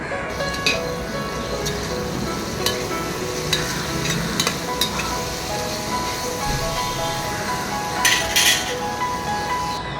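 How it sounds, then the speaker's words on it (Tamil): Steady sizzling of chopped mint and coriander leaves frying in a pan for chicken biryani, with a spoon clinking and scraping against the metal now and then as they are stirred. "பொடியை நறுக்கின புதினா இலை மற்றும் கொத்தமல்லி இலையை சேர்த்து ஒரு மூணு நிமிஷத்துக்கு நல்லா வதக்கிக்கலாம்"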